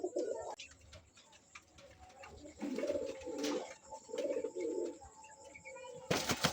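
A male and female king pigeon coo in three throaty bursts, close and clear, with faint chirps in the background between calls.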